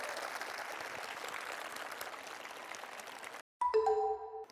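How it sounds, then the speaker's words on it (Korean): A talk show studio audience claps at a host's urging, a steady wash of applause that cuts off abruptly, followed by a brief electronic chime-like tone. "저런 일은 진짜로 여러분 박수 한번 쳐주셔야 됩니다."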